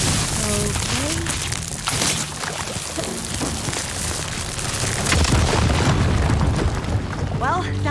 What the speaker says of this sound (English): maybe they're fireworks